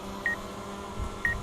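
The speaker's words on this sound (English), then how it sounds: "So right there, that noise is that the front sensors" Two short, high electronic beeps from a drone's front obstacle sensors about a second apart, faint over a low hum and hiss.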